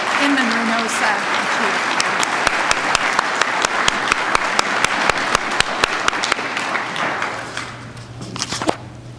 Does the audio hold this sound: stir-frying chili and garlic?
no